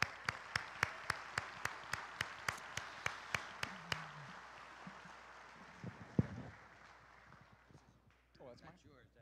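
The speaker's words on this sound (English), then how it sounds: "Round of applause." Applause from the audience at a Catholic men's conference starts as evenly spaced, rhythmic claps that beat steadily for several seconds, then loosens into softer scattered clapping and crowd murmur, with brief talk near the end.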